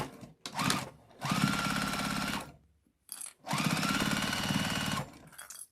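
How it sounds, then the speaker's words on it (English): A sewing machine back-stitches over a zipper on a small quilted fabric case. It runs in two steady, close bursts of about two seconds each, with a short pause between them. "And I like to back stitch over the zipper."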